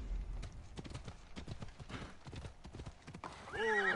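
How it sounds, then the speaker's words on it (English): Steady clip-clop of horse hooves at a trot in Assassin's Creed Odyssey, close by, followed by a loud neighing whinny at the end. "My horse doesn't like caves"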